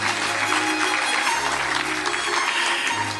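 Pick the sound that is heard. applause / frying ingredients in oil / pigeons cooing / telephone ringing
applause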